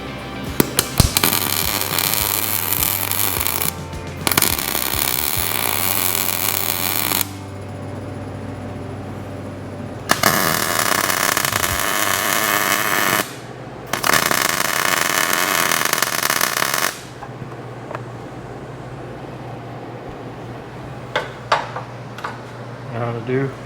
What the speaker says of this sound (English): now we'll go back to the belt sander and just get the burrs off of them